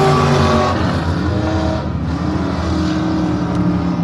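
IMCA Sport Mod race cars roar through a heat race at a dirt track, a loud, continuous blend of several engines with rising and falling revs, close and dense throughout.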